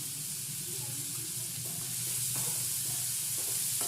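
Frying chickpea sundal sizzling as grated coconut goes in and a spoon stirs it, a close steady hiss broken by a few scraping strokes, with no voices.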